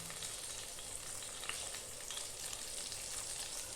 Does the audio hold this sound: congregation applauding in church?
no